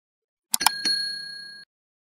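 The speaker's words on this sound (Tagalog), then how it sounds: "at pakipindot na rin itong notification bell" A couple of quick clicks, then a single clear bell ding that rings for about a second before cutting off.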